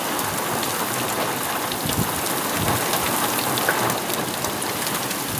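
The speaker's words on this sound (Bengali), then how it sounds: "হালকা হালকা শিল পড়তেছে প্রচুর পরিমাণে" Heavy rain with hail pouring down in a storm, a dense continuous hiss and patter of drops and ice striking surfaces, loud and steady with a low rumble underneath and no voices.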